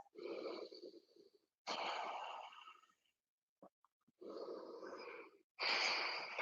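Slow, deep breaths are drawn and released during a yoga pose, each long inhale and exhale audible up close, separated by brief silences.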